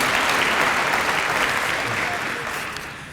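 Graduates and their families clap together at a University of Johannesburg graduation ceremony, a loud, dense roar of applause that begins at full strength and gradually tapers off, with faint crowd voices mixed in.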